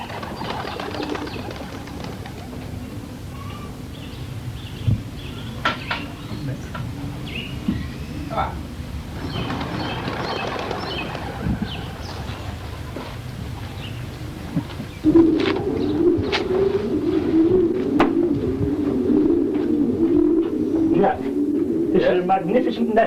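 Racing pigeons out for exercise coo and flutter around the loft, soft calls and wing noise under a steady low hum that grows louder partway through, with a voice speaking at times.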